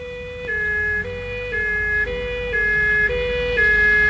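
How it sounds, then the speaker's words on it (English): Warning sirens sound aboard a spaceship, a loud two-tone electronic wail that alternates between high and low pitches in a steady rhythm of about half-second steps, continuous and close, with no voices. "Sound all warning systems."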